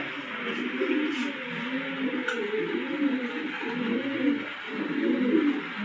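Local-breed pigeons, a pair kept together, cooing in repeated soft throaty rolls close by, one burst after another with a faint background hiss.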